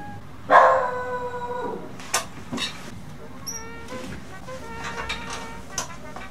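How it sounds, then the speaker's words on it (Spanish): A dog indoors gives a loud howling bark, then several shorter yips and barks in an uneven sequence, near and clear over quiet room background. "No sé por qué estaba ladrando."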